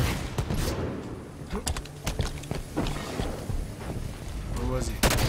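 Gunfire in Halo 5, with repeated quick bursts of rifle shots scattered through the clip, moderately loud and mixed with game noise and a voice talking.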